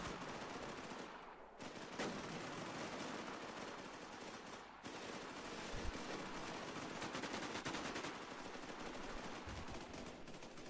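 Gunfire from a shooting video game rattles almost without a break, with dense bursts of automatic fire and loud single shots that stay close and constant.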